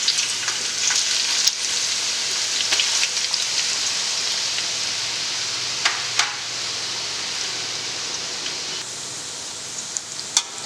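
Onions sizzle steadily in hot oil for a Peshawari chicken curry, a dense, even frying hiss with scattered sharp pops and crackles throughout, close and fairly loud, with no talking.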